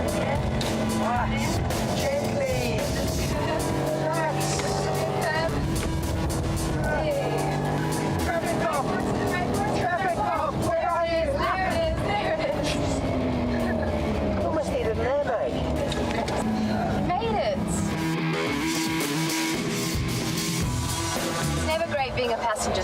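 A car driven hard on track laps with a passenger aboard, the engine roaring and revving continuously with tyre noise, while people talk and react loudly over it.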